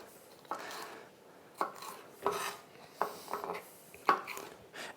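Kitchen knife slicing through a bell pepper on a cutting board for a Thai peanut sauce salad, with five crisp, evenly spaced chops ringing out close and clear over a quiet room.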